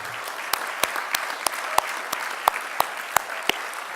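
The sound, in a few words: audience applause at a leadership conference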